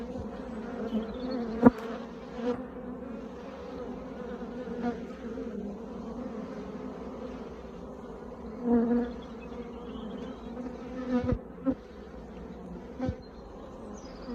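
A steady, dense buzzing of many honeybees at a Flow Hive fills the clip, with a few louder bees passing close now and then.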